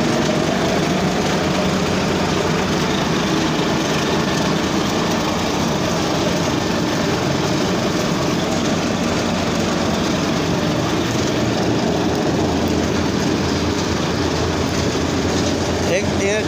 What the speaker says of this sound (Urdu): ٹریکٹر نال چلتی ہے نا یہ شور زیادہ ہے بہت زیادہ ہے